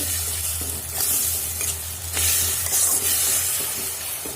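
Spice masala cooked down with water is stirred and fried in a pan, giving a continuous sizzle with intermittent spatula scrapes over a low steady hum.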